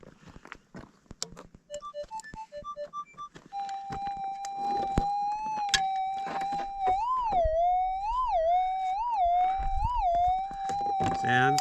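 A metal detector sweeps over a gold nugget target in a red-dirt gold patch near Mount Magnet. Beeps and clicks give way to a sustained warbling tone that rises and falls with each pass, amid rustling ground noise.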